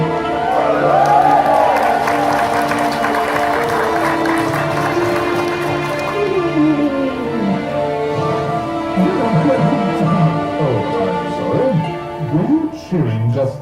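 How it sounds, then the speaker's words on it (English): Crowd cheering and applauding at Toonfest in the video game Toontown Rewritten, a sustained wash of voices and clapping with music behind, holding steady before fading toward the end. "Were you cheering just then?"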